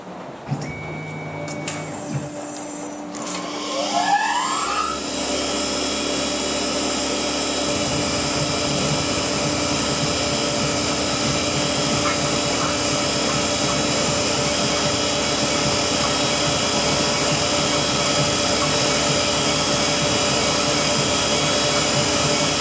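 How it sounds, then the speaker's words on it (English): A Tormach CNC mill with a 4th axis peck-drills, fast feed for the RPM throwing short stiff chips, its loud steady machine whine and hum filling the space after some brief clanks and a rising tone at the start. "if you have a short peck and a full retract and a fairly heavy feed rate for the RPM, then you'll get short, stiff chips coming out cleanly"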